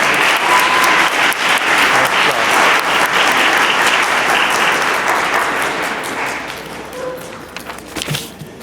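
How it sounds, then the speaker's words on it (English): Applause rises from a crowd at a middle school eighth-grade promotion ceremony, a loud, dense, steady wash of clapping that gradually thins and fades toward the end. "Round of applause for Miss Moan's homeroom."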